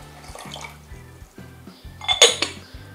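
Liquid poured into a bowl while mixing a homemade kitchen cleaner of hydrogen peroxide, baking soda and liquid soap, with soft splashing and clinks of the container against dishes, near and fairly quiet.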